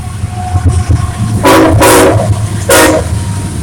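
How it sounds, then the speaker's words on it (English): A passing train at close range, a low rumble underneath three loud horn blasts, two close together and one after a short pause. "here comes a train, so of course it's going to be loud"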